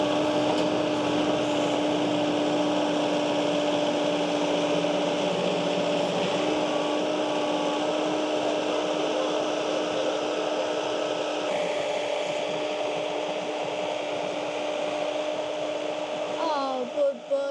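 A farm tractor's engine drones steadily and fairly loudly throughout at a horse shelter, a continuous mechanical hum that barely changes, with only a brief shift near the end.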